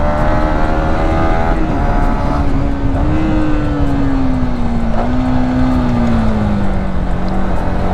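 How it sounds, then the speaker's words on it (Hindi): Stock exhaust of a Yamaha MT15 V3 motorcycle holds a steady, loud, close engine drone at high rpm, its pitch sagging slightly and then climbing again over eight seconds, with no talking. "स्टॉक एग्जॉस्ट भी ऐसी थंप आपको निकाल के देने वाला है हायर आरपीएम पे"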